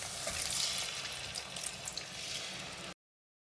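Egg masala gravy in a village-style kitchen, with water and salt just added and starting to boil, gives a steady close bubbling and sizzling hiss for about three seconds, then cuts to silence; no talking.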